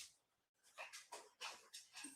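A dog whimpers and whines in a series of short, high-pitched bursts close by indoors, with a brief pause before the cries resume in an uneven rhythm.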